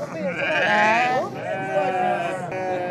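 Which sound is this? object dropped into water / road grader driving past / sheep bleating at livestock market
sheep bleating at livestock market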